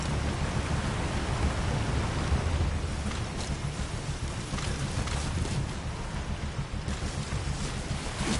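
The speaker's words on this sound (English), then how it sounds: "Caution, rain approaching." Steady rain pours across the whole stretch in the video game Metal Gear Solid V: The Phantom Pain, a dense broadband hiss with low rumbling that may hold distant thunder, continuous and fairly loud with no talk.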